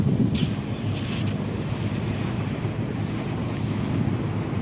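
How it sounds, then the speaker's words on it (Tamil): Sea waves wash onto a beach in a steady, continuous roar, with wind buffeting the microphone throughout and a brief hiss of surf near the start. "இந்த கடல் அலை அந்த சவுண்டெல்லாம் கேட்குற நேரம் மைண்டுக்கு கொஞ்சம் ரிலாக்ஸாக இருந்தது."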